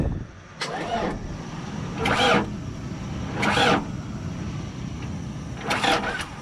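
An Isuzu NPR truck engine being cranked by the starter, with four raspy cranking bursts in an uneven rhythm over a steady low rumble, heard close and fairly loud.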